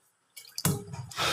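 Tap water splashes and runs while sapsap fish is rinsed in a kitchen, starting with a few soft drips and then a close, steady bright gush of running water.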